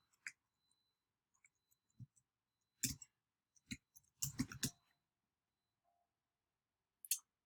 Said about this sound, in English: we're going to type in my passcode information